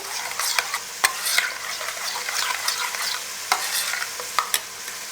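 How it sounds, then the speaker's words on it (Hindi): Salt and crushed red chili get stirred into hot oil for hara pulao, a close steady sizzle broken by sharp clicks and scrapes of the spoon against the pot, no talking. "अब इन दोनों चीज़ों को हम अच्छे से मिक्स कर लेंगे"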